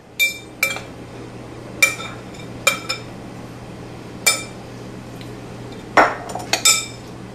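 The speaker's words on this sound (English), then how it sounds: "now we're going to add 1/3 of the dry ingredients into our batter" Dry ingredients stirred into lemon pound cake batter in a bowl, with scattered clinks and taps of a utensil against the bowl at irregular intervals, close and quiet with no speech.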